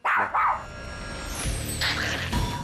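A small, fluffy pet dog barks sharply a couple of times up close in an indoor setting, the short loud yaps followed by quieter rustling and movement.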